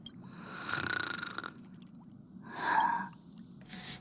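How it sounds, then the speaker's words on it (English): A sleeping video-game character snores, two slow breathy inhale swells with a rasping airy texture separated by quiet pauses, soft and close with no talk. "Snoring noise."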